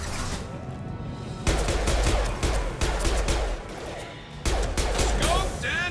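Repeated rifle gunfire from the video game Mass Effect, loud bursts of rapid shots in several clusters with brief lulls between, dense crackling impacts and occasional sharp high whine near the end.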